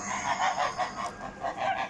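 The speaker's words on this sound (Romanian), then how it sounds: "Avem aici niște gâște crețe." Sebastopol curly-feathered geese honk at a national poultry exhibition at Romexpo, letting out a quick series of about six loud, nasal calls close by.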